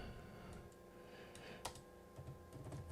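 Quiet typing on a computer keyboard, a string of light, irregular key clicks at close range against a faint background hum, with no voices.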